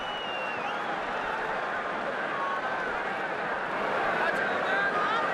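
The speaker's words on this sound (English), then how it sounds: "And the crowd applauds" A large rugby stadium crowd applauds at a 2016 All Blacks match in South Africa, a dense, continuous roar of clapping and cheering that swells slightly toward the end.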